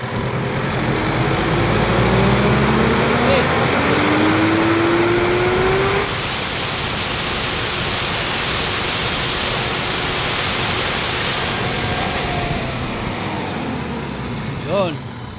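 A Mitsubishi Montero engine revs high with a rising turbo whistle, then holds a loud, steady roar with a thin high whine on top, and people talk over it.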